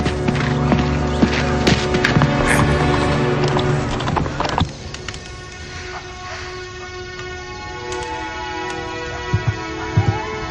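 Horse hooves clip-clop steadily at a walk in a Western setting, the rhythmic clopping blended with a rumbling background and fading after a few seconds, followed by a few faint knocks.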